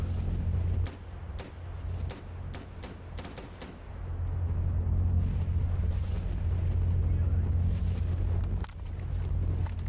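Rapid gunfire from an accurate 60-round-magazine rifle in the shooter game Gamma, sharp cracks in quick bursts over a steady low rumble of game ambience.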